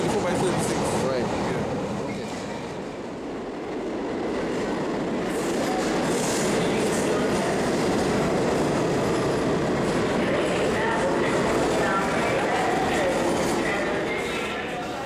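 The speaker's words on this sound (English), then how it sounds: "standing in front of one of these Coney Island number 5 subway cars" A Coney Island number 5 subway train rolls past close by, with loud rumbling, rattling cars and faint wheel squeal that swell and then hold steady.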